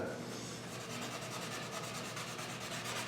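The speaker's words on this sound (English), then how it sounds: "maybe go back at it with some 120 or some 150 rather than trying to sand it with 220." Sandpaper rubs over a sanding-sealer coat on a model airplane build, a steady close scratchy rasp with quick repeated back-and-forth strokes throughout, with no talking.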